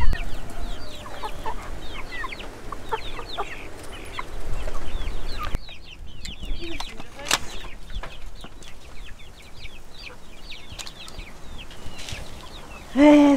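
Chickens cluck close by in a dense, continuous stream of short calls, and the sound swells and thins over the span.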